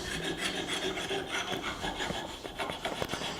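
A hand file rasps across a carved wooden letter opener in quick, steady back-and-forth strokes, a close, dry scratching that runs continuously with no talking.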